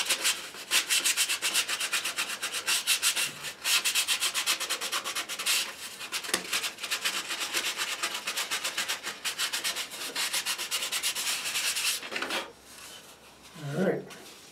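Fine-grit sandpaper rubbed by fingertip along the glued wing joint of a model glider, a steady close scratching rasp that runs for about twelve seconds, then stops briefly before a short voice.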